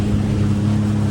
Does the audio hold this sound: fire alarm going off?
no